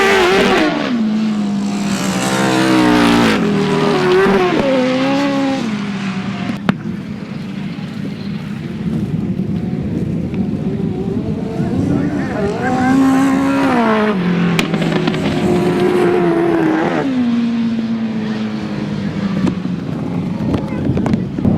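Grasstrack sidecar racing outfits thunder past at a 2009 Cornwall meeting, engines roaring loud and close with rising and falling pitch as the outfits sweep by, and a commentator talking over the noise.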